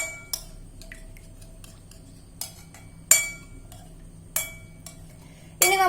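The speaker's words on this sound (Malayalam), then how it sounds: "ഇനി നമുക്ക് ഇതെല്ലാം കൂടെ ഒന്ന് നല്ല പോലെ മിക്സ് ചെയ്തെടുക്കുക" A spoon clinks against a bowl while chili-powder marinade for fried chicken is mixed: sparse, sharp metallic taps spaced irregularly over a quiet background.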